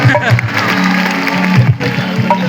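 Crowd at the Pindra Mahotsav 2026 live concert claps continuously, filling the whole stretch with dense applause, while a voice talks over it.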